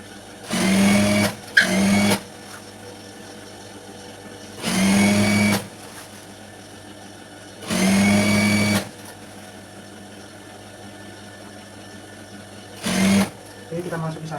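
A sewing machine stitches a high school skirt in several short, loud whirring bursts separated by pauses, close by, with a faint background hum between runs.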